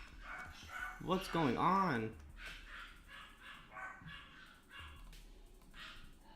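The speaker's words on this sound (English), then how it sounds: "the dogs, they're barking" Dogs bark in a video game, a burst of yips and barks followed by scattered fainter ones at mid distance, under a player's voice talking over them.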